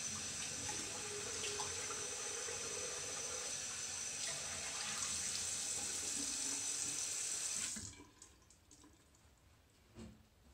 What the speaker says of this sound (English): Let me rinse my face off